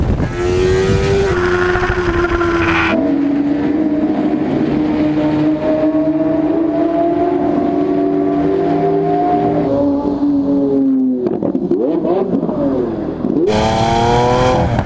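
An MV Agusta Brutale 1090RR engine revs and holds a high, buzzing drone while riding, then drops and climbs again through gear changes, loud with rushing wind noise.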